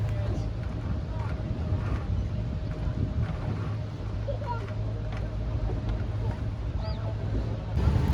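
Steady low engine drone of a tour boat moving across water toward a large waterfall, with wind buffeting and faint background voices.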